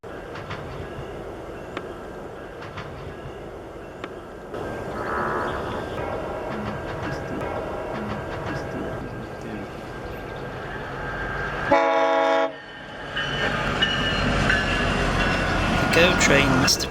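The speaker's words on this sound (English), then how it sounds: "The Go train must have become a daily show for them by now" A GO Transit commuter train rumbles past steadily in the distance in Maple, Ontario, with a brief horn blast midway as the rolling noise continues and swells near the end.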